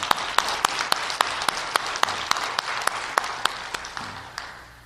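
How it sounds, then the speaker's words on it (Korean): Church congregation applauding together, a dense wash of clapping with sharp rhythmic accents about every half second, loud at first and gradually thinning toward the end. "우리 하나님께 영광의 박수를 좀 드릴까요?"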